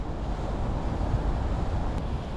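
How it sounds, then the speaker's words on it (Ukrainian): Wind gusting across a microphone at a city lake dam in Kyiv in November, a steady low rumble with slight swells, no talk. "дує ну, такий не сильно приємний вітерець для мікрухи"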